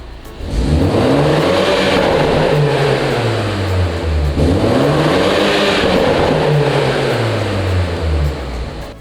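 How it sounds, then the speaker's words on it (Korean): A BMW Z4 (G29) sDrive20i M Sport's exhaust revs hard twice, the engine note climbing and falling in two long swells over a steady rumble, loud and close. "이 차량 배기음 들어볼게요."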